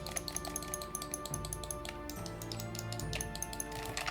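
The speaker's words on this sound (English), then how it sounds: "this one is fully used and the shoulder buttons they sound like this." Clicking shoulder buttons on a worn, fully used Sega Saturn controller, a steady run of small close taps over a low background hum, with no talking.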